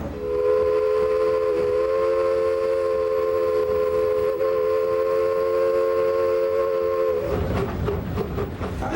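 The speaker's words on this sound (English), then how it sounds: "welcome aboard the Sugarcane Train, Lahaina, Kaanapali, and Pacific Railroad" The Sugarcane Train of the Lahaina, Kaanapali and Pacific Railroad in Hawaii sounds a long, sustained steam whistle at a boarding platform, loud and close, giving way near the end to a broadband rush of noise.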